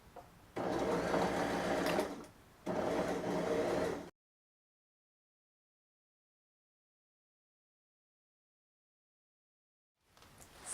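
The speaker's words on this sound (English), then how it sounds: "you're going to just kind of pull on your fabric as you sew" Sewing machine stitching fabric for a skirt: two steady bursts of close, whirring motor drone with a brief pause between them, then a long silence before the machine starts up again faintly at the end.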